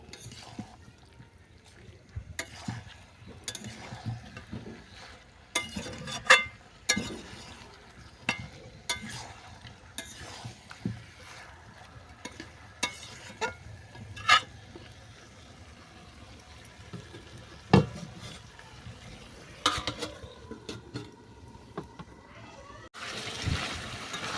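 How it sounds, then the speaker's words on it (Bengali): Chicken cooks in a covered pan, with a quiet sizzle running under scattered scraping stirs and clinks of the utensil and lid, faint and intermittent over a long stretch. "এইভাবে ডিশ ঢেকে ঢেকে চিকেনটা আমি ভালো করে কষিয়ে নিচ্ছি"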